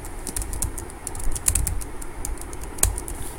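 Typing on a computer keyboard, a quick run of light close key clicks with a few sharper taps, no voices.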